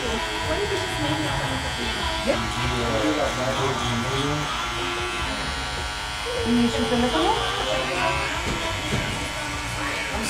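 A hair trimmer buzzes steadily and close during a low compressed fade haircut, with people talking over it the whole time.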